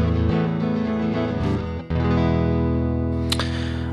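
An electric guitar plays sustained notes through a Zoom 3030 multi-effects unit with no amp simulator, bright and direct, ringing out with a brief pause and a sharp pick attack near the end.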